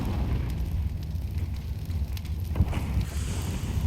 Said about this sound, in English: Molotov in the window. The window is burning.